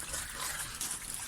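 Water flows continuously nearby with a soft, steady rushing hiss that gently rises and falls. No one speaks.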